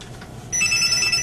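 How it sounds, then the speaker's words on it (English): A telephone starts ringing with a steady, high electronic trill that begins partway through and continues without pause, loud and close with no talking. "Oh, an actual phone call."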